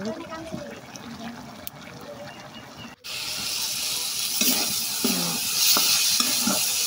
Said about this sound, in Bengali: সিমটা এখন আমি ভেজে নেব।